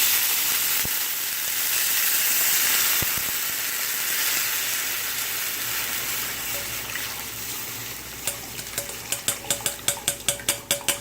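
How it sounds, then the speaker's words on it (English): Strained clam broth hitting a hot pan for white clam sauce, a loud sustained sizzle and bubbling hiss that settles, followed by a run of sharp regular clinks or taps near the end. "go ahead and add your strained broth"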